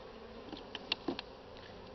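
Bees buzz softly during a spring hive inspection, a faint steady drone with a few brief louder passes nearby.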